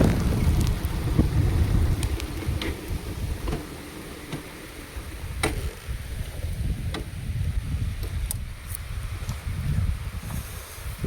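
Rain falling outdoors on a roadside, a steady dense hiss with low rumbling wind and scattered sharp drop ticks throughout.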